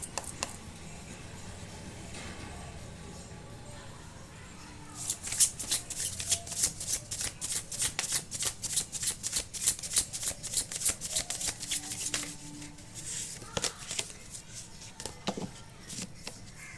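Oracle cards being shuffled by hand, a soft riffling rush that grows into rapid repeated flicks and taps, close and continuous with no speech.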